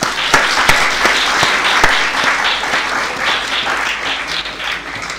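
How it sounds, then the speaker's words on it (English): An audience claps for distinguished guests, speakers and judges at a university marketing challenge event, a steady, dense round of applause that holds for several seconds and slowly tapers. "A round of applause for them, please."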